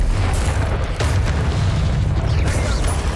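A Confringo blasting spell from the Hogwarts Legacy video game goes off in a dense, continuous series of booming magical explosions and crackling bursts, loud and close throughout.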